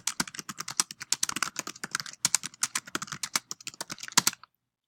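Dense, rapid typing patters on a computer keyboard while a paper is written in a word processor, keystrokes close and steady for several seconds before abruptly stopping.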